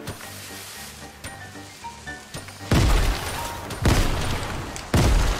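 Shotgun blasts in an online shooter game, three loud, booming shots spaced about a second apart, each with a long crashing tail, over faint game background noise and no talk.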